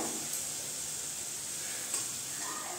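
Eggs frying in a pan of spiced masala for Bengali egg do pyaza give a soft, steady sizzle that holds evenly throughout, with a couple of faint stir clicks and no voices.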